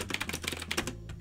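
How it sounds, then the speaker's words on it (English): Rapid, irregular clacking keystrokes come from a retro typewriter-style keyboard with LED lighting, typed close up and moderately loud with no voices. "Now I type like a monkey, so don't judge me on that."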